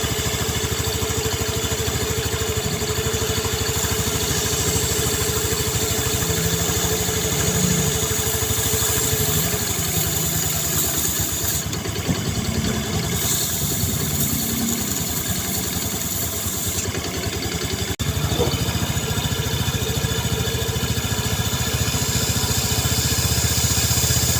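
A Yamaha Mio motorcycle with weak power and strong vibration runs at a steady idle close by, its engine droning continuously for the whole stretch with no talk.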